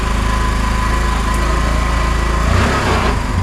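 Motorcycle engine running loud and close through its aftermarket exhaust, a steady throbbing drone with a slight rise in revs near the end and no voices over it.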